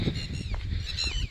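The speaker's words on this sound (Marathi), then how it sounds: "आता या पाठीमाग टिटव्या ओरडतात" Red-wattled lapwings call in open countryside, several shrill, repeated cries with sliding pitch arriving in quick succession, moderately near, over a low background rumble.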